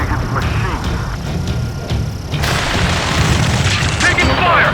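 Gunfire and explosions in the combat video game Ace Combat 7, heavy booms and rattling shots under shouted voices, growing denser and louder midway.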